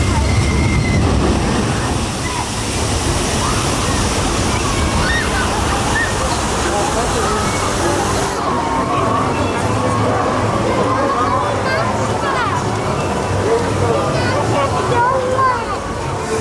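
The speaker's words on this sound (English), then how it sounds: "we have the waterfall on now" Waterfall at the Jurassic Park River Adventure ride in Universal Orlando, a loud, steady roar of rushing, splashing water that fills the whole stretch without letup, with voices faintly mixed in.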